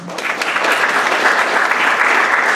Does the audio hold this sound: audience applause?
yes